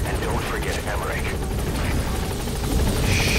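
A helicopter touches down in Metal Gear Solid V: a loud, steady rotor roar with rhythmic blade chop, close and filling the scene, with voices talking over it.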